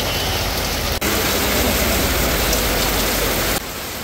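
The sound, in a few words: heavy rain falling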